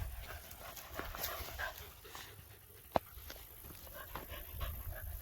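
Dogs out on a woodland walk in the Ozarks during deer rut season, with steady breathy panting and soft footfalls on leaves running throughout, plus one sharp knock partway through.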